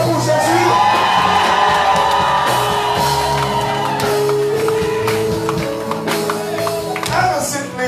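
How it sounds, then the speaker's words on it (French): Church congregation at a Sunday service shouting and cheering with joy for Jesus, a loud sustained mass of whoops, yells and cries filling the room with voices overlapping throughout. "Vous savez les cris de joie pour Jésus?"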